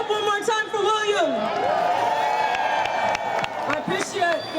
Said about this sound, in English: We clap it up one more time for William.